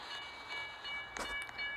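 A freight train rolls past a road crossing on North Lamar just after a train hit a car hauler, a steady rumbling roar with brief metallic clanks and squeals near the middle, heard from nearby with no voices.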